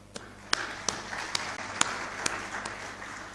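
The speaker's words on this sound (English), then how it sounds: "Would like to give you a round of applause on that one." Scattered claps ring out at a heads of state summit in the Kavango–Zambezi conservation area, a handful of sharp, separate hand claps spaced irregularly, close and fairly loud against a quiet room.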